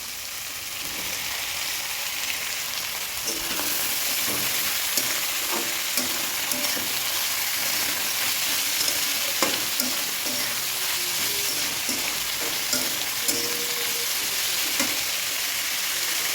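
Cabbage and mixed vegetables stir-fried for egg chicken chow mein, a steady broad sizzle running throughout with scattered scraping stirs and clinks, close and fairly loud, no voices.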